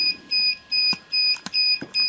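A DJI drone remote controller with an uncalibrated stick beeps in a steady repeating pattern, five loud, close electronic tones evenly spaced with short gaps, with a few faint clicks between them.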